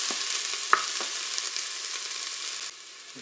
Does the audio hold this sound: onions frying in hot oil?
yes